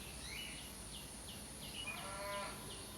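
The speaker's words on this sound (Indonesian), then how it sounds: "Dan suara sapi asli." A distant cow lows a few times beneath a steady hum of background noise, with faint bird calls mixed in.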